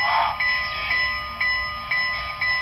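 A model train's bright, tinny bell dings in a steady rhythm, about twice a second, over a continuous electronic hum and background rumble.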